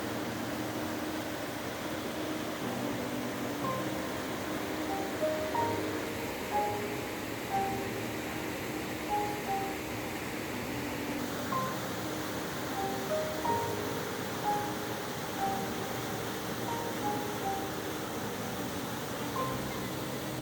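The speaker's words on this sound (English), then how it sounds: "It's actually a hidden waterfall and you can hear the roar of the noise." A constant, distant rushing roar of falling water, steady and broadband, with faint birdlike chirps now and then.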